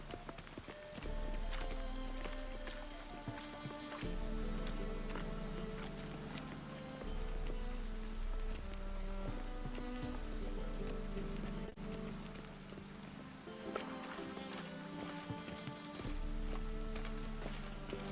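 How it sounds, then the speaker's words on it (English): Steady rain falls in The Witcher 3 video game, a continuous wash of drops on surfaces, with horse hooves clip-clopping along and a low musical score underneath throughout. "It just rains and rains."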